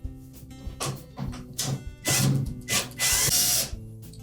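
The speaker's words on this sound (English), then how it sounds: "Now there are usually 2 to 3 screws in this area that will need to be removed." A power drill whirs in short bursts while backing out Phillips or square-drive screws from a Frigidaire washer's console, with the pitch rising and falling close by and no speech.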